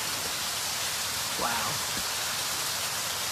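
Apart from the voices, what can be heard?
pouring rain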